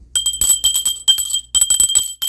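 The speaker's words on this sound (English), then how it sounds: "I'm going to go ahead and ring my bell" A hand bell is rung in repeated bursts of bright, ringing tinkles, shaken in quick clusters with short pauses between, close and fairly loud with no talking.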